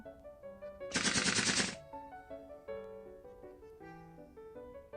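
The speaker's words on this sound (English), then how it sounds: "A series of gunshots goes off" A short burst of rapid gunfire in a video game, loud for under a second amid quieter electronic music tones before and after.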